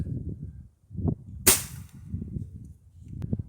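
A single sharp crack from a Gamo Whisper Fusion Mach 1 .22 air rifle firing at a milk jug, loud and near, standing out midway over a low murmuring background.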